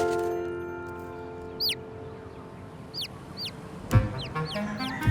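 Chicks peep in quick rising chirps while chickens cluck nearby, free-roaming on an island, with scattered calls over a steady outdoor background and a louder burst near the end.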